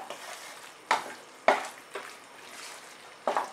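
Okra and onion in a yogurt gravy on low heat in a pan, a soft sizzle broken by several distinct scraping strokes of a spoon at irregular intervals.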